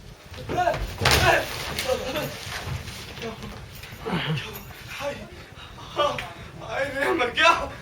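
A person falls hard through a doorway onto the floor, giving a sharp loud thud and clatter near the start, with people talking and exclaiming around it.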